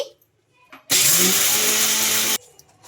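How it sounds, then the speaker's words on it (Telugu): A kitchen mixer grinder grinds cooled roasted peanuts in its jar for peanut chutney, a loud steady whirring roar that starts abruptly, runs about a second and a half, then cuts off, with quiet room noise before and after. "ఫస్ట్ వీటిని గ్రైండ్ చేసుకుందామండి"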